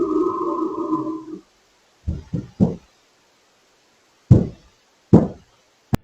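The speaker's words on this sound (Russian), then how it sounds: "После этого снова слышны звуки рычания и стука по двери." Knocks on a door caught on a home surveillance camera: after a low droning sound fades, a series of separate heavy thuds comes in irregular clusters, loud and close, with silence between them.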